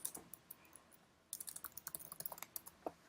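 Computer keyboard typing while writing Java code, a sparse few taps at first, then a quick, steady run of close, crisp keystrokes with a short pause near the end.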